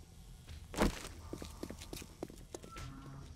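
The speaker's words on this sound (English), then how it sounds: "I still hear some footsteps, but I think they're outside" Footsteps in the game 7 Days to Die (Undead Legacy): faint, irregular thuds and scuffs that sound a little distant, over a low background hum.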